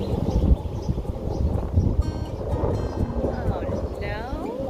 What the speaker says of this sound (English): I don't think I'm going to be able to escape this wind.